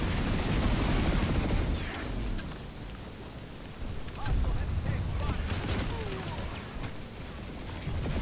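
Rapid gunfire from the video game Planetside 2, scattered crackling shots and bursts over a busy, roaring battle background with occasional whooshes and beeps, loud and close throughout.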